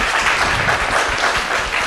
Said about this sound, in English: Agnes, let's please just give her a clap to encourage her.